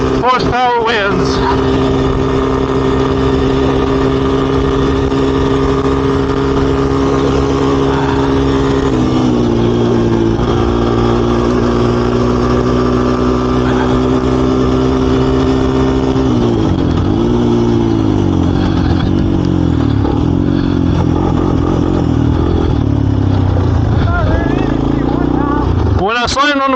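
A Yamaha Blaster ATV quad engine drones loudly and steadily close by, its pitch rising and falling with throttle changes and a sharper rev near the end, while a voice talks over it.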